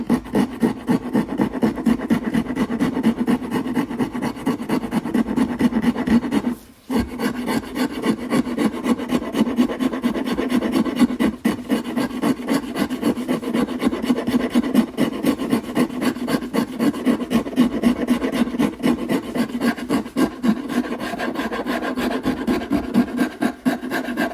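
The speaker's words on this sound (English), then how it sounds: "So we'll just give that a final little sand, and then we can sand this whole top." A small wooden piece is hand-sanded in a steady, continuous back-and-forth rasp, close and fairly quiet, with one brief pause partway through and no voices.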